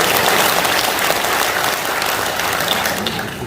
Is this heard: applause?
yes